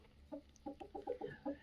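Free-range desi hens on a poultry farm cluck in a quick series of short, soft calls heard close by, with no voices.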